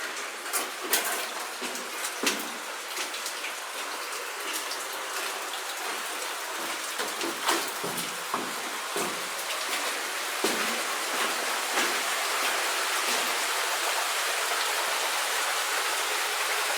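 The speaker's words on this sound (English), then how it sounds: "there's something caved right there with a bunch of water pouring down" Water pouring and splashing down through a caved-in section of a Colorado gold mine, a steady broad rushing hiss with scattered drips and knocks, continuous and fairly close.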